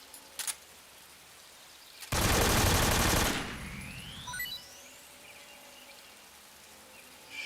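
AK assault rifle firing in Metal Gear Solid 3: Snake Eater: one loud, dense automatic burst of about a second, followed by a rising electronic whine and faint game ambience.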